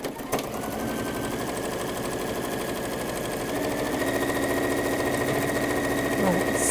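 A sewing machine stitching down fabric seams, a fast continuous mechanical whirr held steadily, close and loud, with faint speech in the background.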